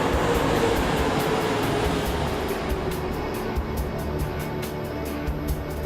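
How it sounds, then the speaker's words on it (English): A Miami Metromover train rumbles past overhead on an elevated downtown track, a steady broad roar with faint rhythmic clacks above street noise and no talking. "The Metro Mover just passed above me."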